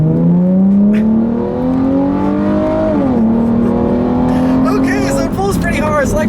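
A 2013 Hyundai Genesis 3.8 Coupe, around 400 horsepower and shifted manually, accelerates hard on a straight road. Its loud engine drone climbs in pitch, dips briefly at a gear change and then rises again.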